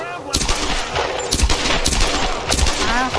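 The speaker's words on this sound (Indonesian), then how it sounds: "Langsung tembakin terus." Rapid gunfire in the video game Tomb Raider Definitive Edition: close, loud bursts of automatic shots that repeat over a steady roar of combat noise.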